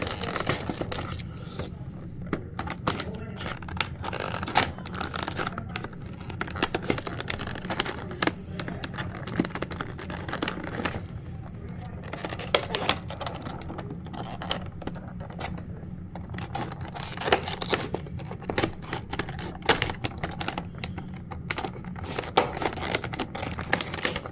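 Quiet scraping, crinkling and slicing sounds come from an X-Acto knife cutting into product packaging, a long run of irregular close-up scratches and rustles at low level.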